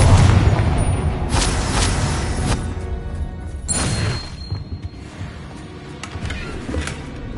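Explosive Confringo spell blasts in the Hogwarts Legacy video game, a run of loud booming impacts with crashing debris, several heavy bursts close together, then quieter rumbling aftermath.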